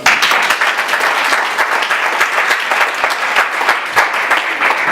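A church congregation at a worship service breaks into loud, sustained applause, with dense rapid clapping that keeps an even level for several seconds and no talking.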